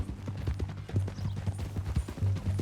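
Horse hooves clip-clop in a steady walking rhythm in Red Dead Redemption 2, close and fairly loud, with no talking over them.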